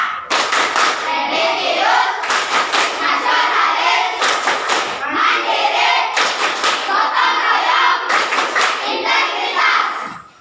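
A school class performs the BPK clapping chant, loud rhythmic bursts of hand claps in patterned groups with children's voices chanting along between the clap sequences, close and energetic.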